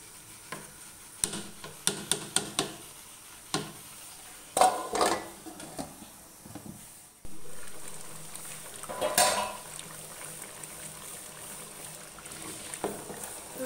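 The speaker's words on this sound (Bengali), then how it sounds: "মাংসটাকে আমি এখন নাড়াচাড়া করে দিচ্ছি।" Meat being stirred in a cooking pot for a morning breakfast, with repeated scraping and clinking of a spoon against the metal, several sharp knocks early on and softer stirring later, close and moderately loud, no talking.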